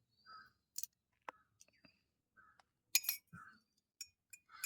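A spoon clinking against a glass while stirring honey into warm water, a few light, sparse taps and clinks with soft sounds between them in a quiet room.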